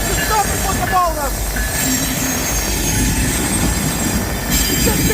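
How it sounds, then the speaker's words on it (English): A freight train rolls steadily past, led by Norfolk Southern locomotive 1143, with a continuous rumble of railcars and intermittent high-pitched wheel squeal close by. "With 1143, Norfolk Southern is certainly the leading locomotive."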